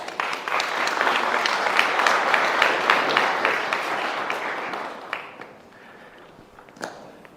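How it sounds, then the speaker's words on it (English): A live audience applauds loudly for performers called up on stage, a steady roar of claps that thins out toward the end, leaving a few scattered claps. "Give them a big round of applause."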